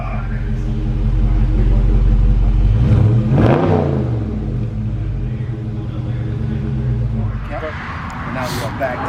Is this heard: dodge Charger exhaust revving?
yes